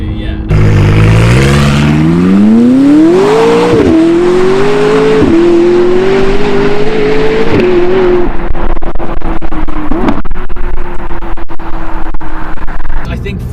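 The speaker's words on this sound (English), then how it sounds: "we've actually gone out of our way to make the exhaust system sound good" Stock McLaren 675LT exhaust revving loudly and close, climbing steadily in pitch with brief dips at shifts, then settling into a rough, crackling idle with sharp pops near the end.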